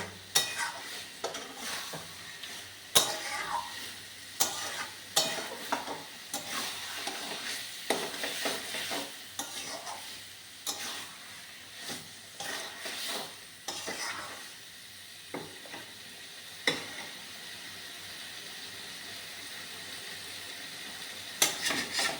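Chicken kosha is stirred and sautéed in a pan, a steady soft sizzle broken by repeated sharp scrapes and clinks of a spatula against the metal, close and moderately loud, with no talking.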